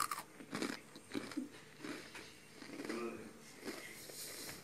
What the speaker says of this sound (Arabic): سامعين يا جماعة القرمشة بتاعته مع الشاي بقى